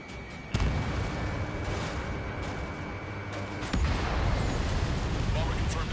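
An enemy bomber is destroyed by a missile in an air combat video game, heard as a dense, continuous rumbling barrage of explosions and booms with a sharp onset, then a louder burst midway, all fairly close and sustained.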